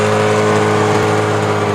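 A snow bike in Gulmarg runs with its track spinning, giving a loud, steady engine drone with strong low hum, close and continuous throughout.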